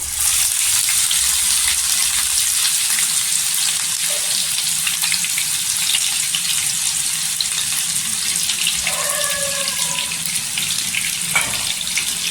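Onions fry in hot oil in a kadhai for a sukat thecha, giving a loud, steady hiss that fills the whole stretch, with a short whistling tone near the end. There is no talking.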